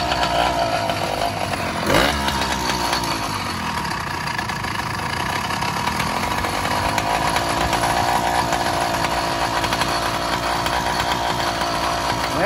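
Motorized bicycle engine idling after its idle was turned up, a steady buzzing two-stroke putter heard close and alone, with a brief louder blip early on.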